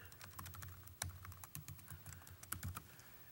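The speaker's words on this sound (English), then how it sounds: "he can type out just a quick message" Quick burst of typing on a computer keyboard while composing a short note in Outlook, a steady run of close, light key clicks with a few heavier taps, no voices.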